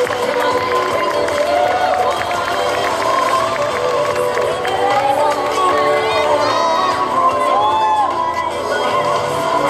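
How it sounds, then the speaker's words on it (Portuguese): An audience at a cosplay parade during a Sunday convention cheers, whoops and shouts continuously, a dense, loud crowd roar with children's voices and applause mixed throughout. "Palmas, por favor."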